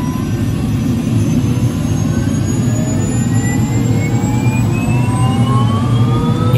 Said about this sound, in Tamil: ஓகே, இப்போ ஹெலிகாப்டர் ஸ்டார்ட் பண்ணியாச்சு.